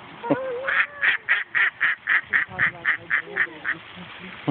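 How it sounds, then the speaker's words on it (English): Ducks quacking in a steady run of about a dozen evenly spaced quacks, fairly close, with a child and an adult talking softly in the background. "You hear those duckies? Are they quacking? Yeah, they're quacking."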